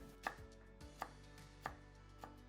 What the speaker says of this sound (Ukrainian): Тепер петрушка. Її треба також подрібнити.